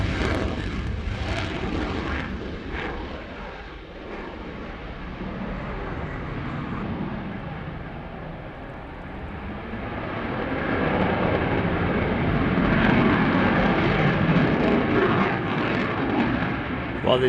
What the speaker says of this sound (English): The Belgians certainly do know how to fly their F-16s